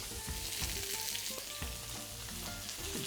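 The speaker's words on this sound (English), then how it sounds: "we are going to toss our seed leaf in olive oil without giving any coloration" Seed leaves sizzle steadily in warm olive oil, a close, continuous crackle and hiss with small pops and faint clinks of stirring throughout.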